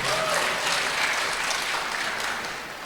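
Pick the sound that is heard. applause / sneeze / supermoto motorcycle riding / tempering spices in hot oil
applause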